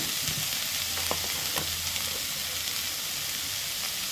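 Vegetables sizzling and frying in a pan for homemade noodles, a steady crackling hiss with occasional soft stirring scrapes, close and continuous without talk.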